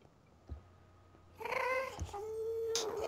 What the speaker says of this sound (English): That's the sounds of the ghast.